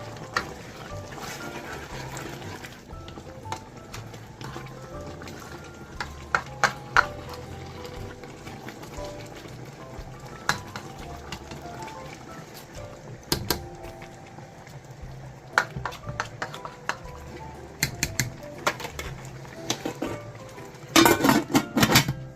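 Dinuguan meat stew with white turnips stirred in a pot, a steady stream of metallic scrapes and clinks of a utensil against the pot over a constant background hum, close and busy throughout.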